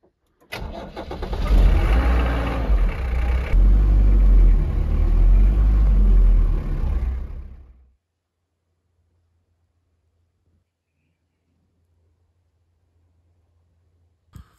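A pickup truck's engine rumbles loud and close for several seconds on a Portuguese homestead, then cuts off abruptly into near silence with a faint low hum.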